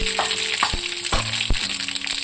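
Chana dal and mustard seeds fry in hot oil as the tempering for a cauliflower pickle, giving a steady sizzle broken by several sharp pops and clicks.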